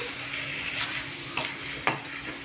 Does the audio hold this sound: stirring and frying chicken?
yes